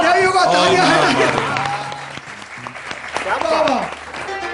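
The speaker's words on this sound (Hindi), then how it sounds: "there you go, तालियां हैं।" A studio audience claps and cheers on a Pakistani morning television show, the applause running beneath loud, excited voices and what sounds like sung or shouted talk throughout.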